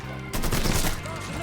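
A burst of gunfire in the video game Mafia 3, a loud, fast volley of shots that breaks in sharply and then fades into a lingering rumble.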